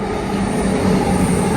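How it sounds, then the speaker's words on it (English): A CrossCountry passenger train passes close by a footbridge, its steady rumble and rail noise continuous and fairly loud throughout. "There's a train coming."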